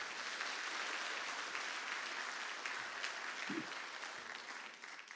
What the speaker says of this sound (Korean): 한번 뜨거운 박수로 격려해 주세요.